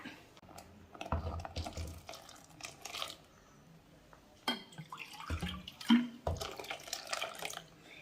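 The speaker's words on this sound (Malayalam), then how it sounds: "ഗ്രേവിക്ക് ആവശ്യത്തിനുള്ള വെള്ളം ആദ്യമേ തന്നെ ഒഴിച്ചു കൊടുക്കണം." Water splashes into a pan of ground coconut paste for a fish curry with green mango, in uneven bursts of pouring and dripping with pauses between, fairly quiet and close.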